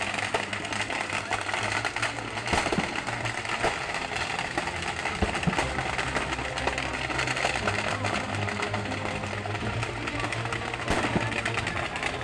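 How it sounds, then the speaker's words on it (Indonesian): Repeated sharp bangs and cracks of exploding ammunition from a burning military truck on a toll road burst out at irregular intervals over a dense, steady roar, some blasts louder and closer than others. "ada ledakan."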